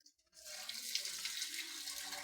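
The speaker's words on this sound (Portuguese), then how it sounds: "A água tá fraca, mano." A weak stream of water runs from a tap, starting abruptly after a brief silence and then flowing steadily with a thin, hissy splash, with no talk over it.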